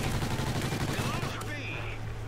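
Rapid automatic gunfire in a video game shooter, dense continuous bursts filling the moment, loud and close, with a player's voice talking over the shots.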